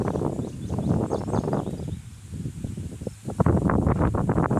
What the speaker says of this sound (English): bit of wind up here you can hear